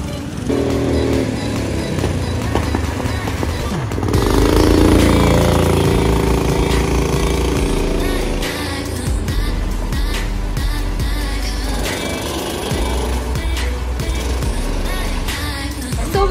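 Go-karts racing around a karting track in Algiers, engines droning loudly and steadily throughout with rising and falling revs as the karts pass, a dense continuous roar.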